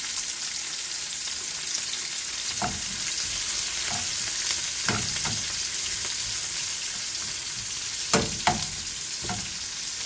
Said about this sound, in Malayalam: പൊരിച്ച ഓയിൽ തന്നെ ചൂടായി വന്നിട്ടുണ്ട്. അതിലേക്ക് കുറച്ച് സവാള ഇട്ടെടുക്കാം.